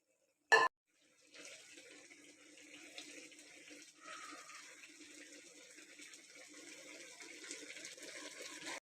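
Milk poured into a pot of ash gourd halwa, a steady liquid trickle and splash that runs for several seconds after a brief sharp knock at the start.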